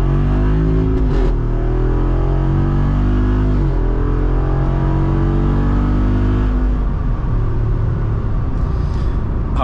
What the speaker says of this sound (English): All right, second gear, full throttle.